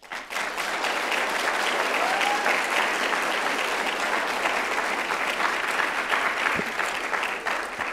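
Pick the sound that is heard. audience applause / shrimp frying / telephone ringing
audience applause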